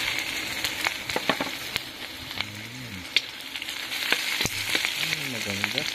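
Tilapia fries in a pan after a quick sauté of aromatics, giving a steady, close sizzle with scattered pops and utensil clicks, plus faint tonal sounds in the background.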